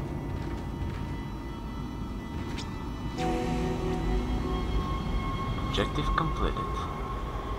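A heavy train in the sci-fi horror game Dead Space rumbles and hums under steady mechanical noise, with metallic squeals and clanks partway through, while a voice speaks over it.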